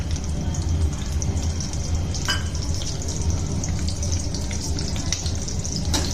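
Chopped onions frying in a pan over a low gas flame, a steady, dense sizzle with a few sharp crackles, close and continuous with no talking.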